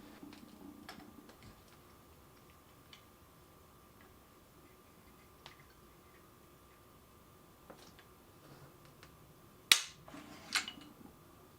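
A Stevens 555 youth model 20 gauge over-under shotgun is dry-fired on spent shells. After near silence with faint small ticks comes one sharp, close metallic snap, followed by a short, softer mechanical rattle.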